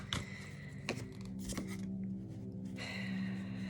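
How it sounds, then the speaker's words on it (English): A deck of cards being shuffled by hand, with repeated riffling bursts and soft crisp flutters, close and fairly quiet against a low steady hum. "I'm going to continue just shuffling."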